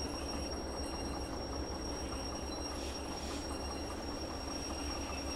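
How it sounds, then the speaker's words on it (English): Train in the Derail Valley game rolling steadily with a constant low rumble and faint high squealing tones from the wheels as it slows, with no voices. "Get the train to a stand."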